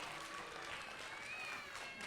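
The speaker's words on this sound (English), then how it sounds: "So a round of applause for her" A school audience claps at an assembly, faint, steady applause with some background chatter and a few high whistling tones.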